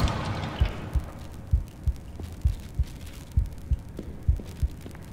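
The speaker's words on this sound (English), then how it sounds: "You hear my heart beating. Oh yeah, it's because my health is mad low." Low-health heartbeat effect in Kvark, a Half-Life-inspired indie game: deep, muffled thumps in a steady paired rhythm, about two beats per second, over a faint hum.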